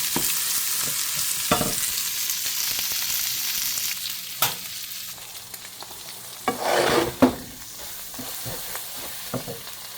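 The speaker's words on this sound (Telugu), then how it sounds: "చికెన్ థైస్లో కొంచెం ఫ్యాట్ ఉంటుంది, ఆ ఫ్యాట్ అంతా కూడా ఇదిగో ఇలా ఆయిల్ లాగా మారి వెరీ ఈజీ" Bone-in chicken thighs frying in their own rendered fat, a continuous close sizzle broken by occasional clatters and scrapes of a utensil in the pan, with no voices.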